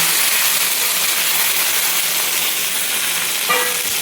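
Onions and spices sizzling in hot oil for dal, a loud, even hiss of frying that holds steady throughout, with a brief faint tonal sound near the end and no speech.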